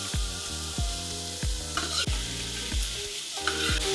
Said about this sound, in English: So I'm gonna go in with all my garlic.